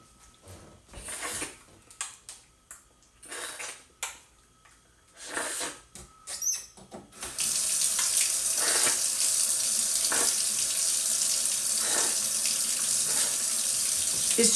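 Kitchen tap water runs steadily and loudly into a sink while a Ninja Creami blade is rinsed, starting halfway through after some quieter handling clatter and continuing without pause.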